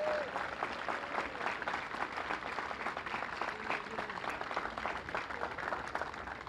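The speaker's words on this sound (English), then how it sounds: "Please give a great round of applause" Steady applause from a sizable crowd, dense clapping sustained throughout at an even level, with faint voices mixed in.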